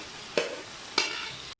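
Fried okra is tipped into a masala in a pan and stirred, with two sharp scraping stirs over a soft steady sizzle, close and clear.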